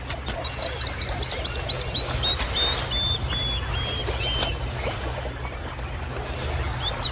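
A plover calls repeatedly in a rapid series of sharp, high piping notes that then slow into longer whistles, over a steady low background hum.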